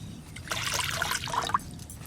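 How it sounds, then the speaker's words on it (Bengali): Water is poured into a cooking pot sitting on an earthen stove: a brief splashing trickle lasting about a second, close by and moderately loud, with no talking. "এবার জল দেব।"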